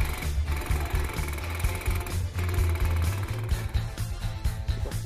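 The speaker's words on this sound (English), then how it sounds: "With the micro-percussion technology, the tip of a tungsten carbide stylus generates the character by a succession of dots." An electromagnetic micro-percussion marking machine strikes metal with a tungsten carbide stylus, making a fast, buzzing hammer rattle that stops and starts in short bursts as it dots out characters.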